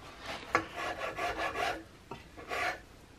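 A coarse half-round file rasps against the wood of a CVA Hawken rifle stock near the buttplate, giving several short, close, scratchy strokes separated by brief pauses.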